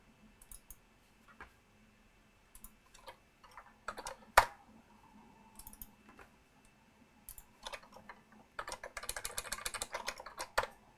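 Someone types on a computer keyboard during electronics design work, in scattered clicks and short bursts that end in a fast flurry of keystrokes, close but soft.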